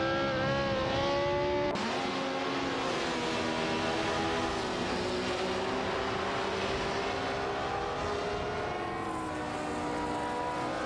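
Race cars, including a Cooper T81B, roar continuously in a computer-driven racing game, engines droning steadily with shifting pitch as they run in close pack through the whole stretch.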